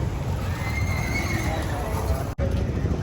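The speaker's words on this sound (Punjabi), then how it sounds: "ਖਲੀ ਘੋੜੇ ਦਾ ਬੱਚਾ" A young horse whinnies with a drawn-out, wavering neigh over a noisy outdoor horse fair background, lasting a couple of seconds before a brief cutout.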